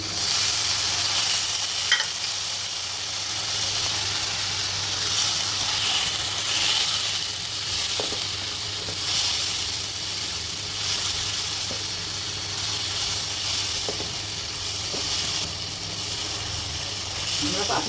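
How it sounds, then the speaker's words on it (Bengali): Chili powder, green chili paste, garlic and a splash of water sizzle in an oily pan of masala, giving a loud, steady hiss that lasts throughout with a few faint stirring clicks. "এই মরিচের গুঁড়া দিয়ে দিলাম এই কাঁচা মরিচ বাটা দিয়ে দিলাম রসুন দিয়ে দিলাম একটু জল দিয়ে দিলাম"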